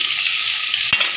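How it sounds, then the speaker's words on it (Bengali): Pointed gourd (potol) pieces, rubbed with turmeric and salt, sizzle steadily in hot oil in a home kitchen pan, a loud continuous hiss broken near the end by a brief stir or clatter. "একটু ভাজা হোক, ঢেকে রেখে দেই।"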